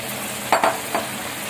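A spoon scrapes and stirs tomato paste frying in a pan of chicken white karahi, two or three quick close scrapes over a faint steady sizzle.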